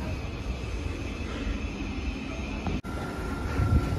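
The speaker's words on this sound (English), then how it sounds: "So this is our train what's pulled in." A train pulls into a station platform with a steady loud rumble and hiss of wheels and motors, a brief dropout near the end, then continuing noise as it slows.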